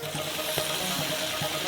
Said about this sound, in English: Fill this all up with water.